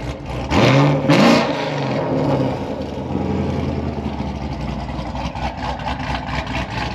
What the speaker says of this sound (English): I'll give you a little bit of exhaust rev as well.